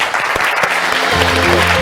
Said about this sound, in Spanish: un aplauso del público